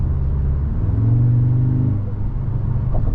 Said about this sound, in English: it's not as much of an exhaust note, it's more engine note